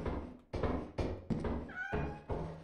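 A kitten in a video game mews several times in short, separate calls spaced across the stretch, with soft game ambience between them.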